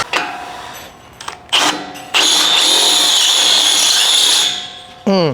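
Power drill boring into a hardened metal hole while fabricating a crossmember for a 1967 Barracuda: a few short whining bursts, then a long sustained high-pitched grind, followed by one more spin-up.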